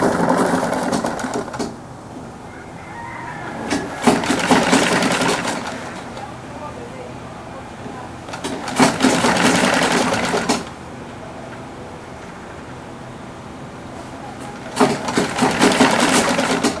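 Sewing machine stitching African native men's wear (buba and sokoto), running in several rapid mechanical bursts of a few seconds each, separated by quieter pauses with faint background noise.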